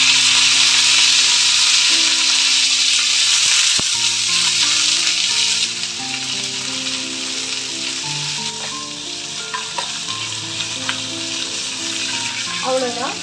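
Curry leaves and dried chillies frying in hot oil for a tempering, a loud steady sizzle that softens slightly midway, with light stirring clinks toward the end.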